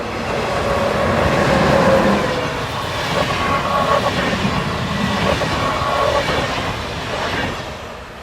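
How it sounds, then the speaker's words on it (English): Class 101 electric locomotive hauling a two-hourly intercity train, passing steadily and fairly close with a continuous rolling rumble and wheel noise that swells early and then eases slightly toward the end. "The 2-hourly intercity trains are now mainly in the hands of Class 101 electrics"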